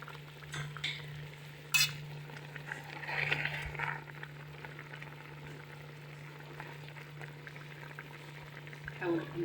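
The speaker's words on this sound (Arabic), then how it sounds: "وغادي نقلي هاد الدجاج هذا" Chicken frying in a pan, a soft bubbling sizzle under a steady low hum, broken by an occasional clink of utensil against the pan.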